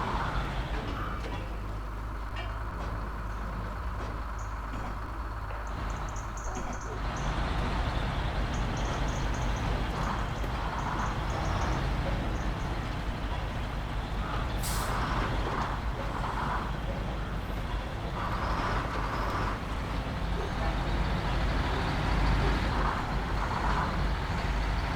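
A truck driven in the video game SnowRunner with a steering wheel: a continuous low engine rumble that shifts and swells partway through, with hissing air-brake and mechanical bursts on top and occasional faint voice.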